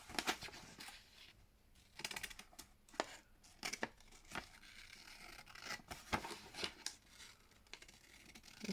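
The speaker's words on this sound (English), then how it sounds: "I might use my scissors." Scissors snipping paper for a junk journal, a run of close, crisp cuts and crinkles at an uneven rhythm, heard alone without talk.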